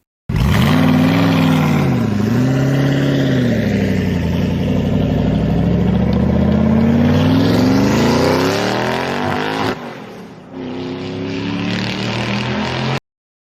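A human voice imitates a car engine revving, a loud, sustained droning tone that rises and falls in pitch like accelerating and shifting gears, then dips and cuts off abruptly at the end.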